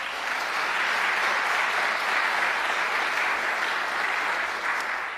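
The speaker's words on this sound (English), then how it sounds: "I think that deserves a round of applause." Sustained audience applause at an event on free community college in New York, with Governor Kathy Hochul: a steady, loud wash of many hands clapping that continues evenly for several seconds without talk.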